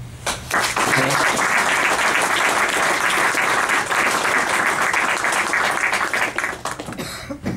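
A tribute round of applause at a 1916 Rising commemoration evening, a dense sustained crowd clapping that swells quickly, holds steady for several seconds, then thins out near the end, with a cough or two in the room.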